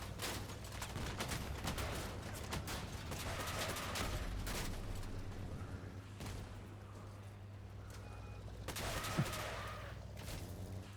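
Sustained bursts of gunfire in the video game Uranium Wars, shots overlapping in rapid fusillades over a steady low hum, with one sharper crack near the end.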